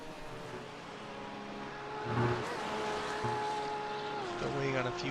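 Race cars lap in a GT3 racing video game, their engines droning steadily with rising and falling pitch, heard under a commentator's talk throughout.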